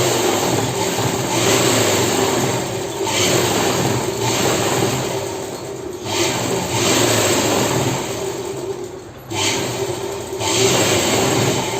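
Sewing machine stitching a blouse at a tailoring table, a continuous loud whirring motor drone with brief dips between stitching runs, close and alone.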